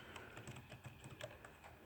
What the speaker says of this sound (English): I'm not going to tell you what I'm typing